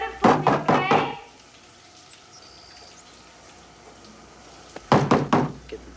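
A quick burst of several loud knocks on a door, a pause with faint room sound, then another rapid series of knocks.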